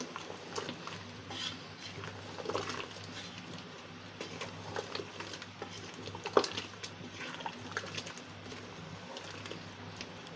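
Spices such as kasuri methi are stirred and mixed in a pan while liver and lung are cooked, giving soft, irregular scraping and light clinks of a utensil against the pan over a steady low background hum.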